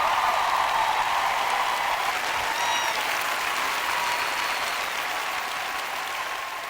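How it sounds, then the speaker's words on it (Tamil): Worshippers at a church gathering applaud in praise, a sustained wash of clapping that slowly tapers off, with faint tonal sounds from the room beneath. "அந்த புனித தேவனுக்காக நீங்கள் கைத்தட்டுங்கள்"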